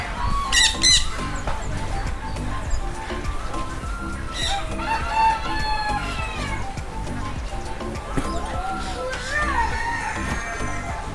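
Chickens, roosters and other caged birds at the Chatuchak pet market in Bangkok, with repeated squawks, clucks and crowing calls scattered over a busy, noisy market background.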